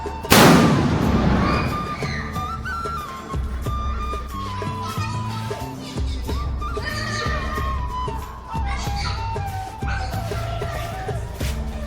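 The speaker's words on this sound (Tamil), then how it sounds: "இதற்கு பேரு தான் நாட்டு வெடி." A loud sharp bang from a traditional country firecracker (naatu vedi) at Diwali opens, followed by a sustained rumbling crackle and tonal whine that fades slowly, heard up close and outdoors.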